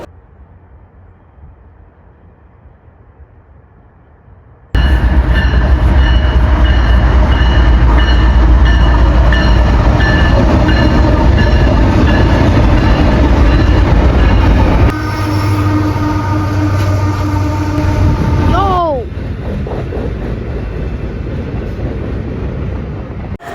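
A Canadian National (CN) freight train passes close by, its loud rumble and rolling wagons starting abruptly, with a sustained horn blast partway through before the noise eases as it moves on.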